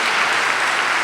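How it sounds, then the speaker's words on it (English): An audience at a women's entrepreneurship symposium panel gives a round of applause, a dense, loud burst of clapping from many people filling the room, with no voices over it. "I'd like you to join me in a round of applause for Allison, Kim, and Ann for sharing all th"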